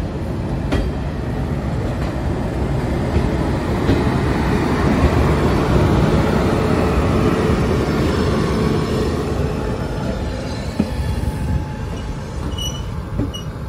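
The 13147 Uttarbanga Express pulls out of Malda station with a steady, loud rolling rumble of wheels and carriages and faint rail squeals, and no voices.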